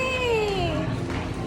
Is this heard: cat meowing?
yes